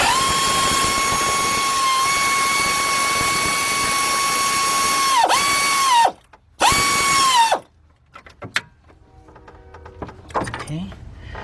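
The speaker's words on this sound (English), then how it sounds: "And I'm going to use my air ratchet." An air ratchet with a 15 mm deep socket on a nut, working on a 2003 Dodge Grand Caravan 3.3, gives a loud, steady high-pitched whine that stops abruptly, resumes for a short burst, then gives way to faint clinks.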